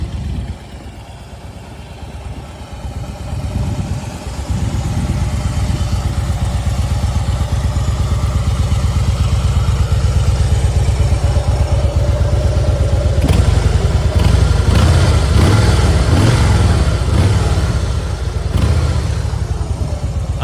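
A Harley-Davidson Fat Boy motorcycle engine, already warm, runs steadily at a loud, close idle with a lumpy rhythmic throb, then revs up with rising intensity partway through.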